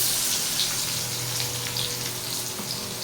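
Onions frying in hot oil for chicken biryani give off a steady, close hiss and crackle, an even sizzle with small pops throughout and no voices.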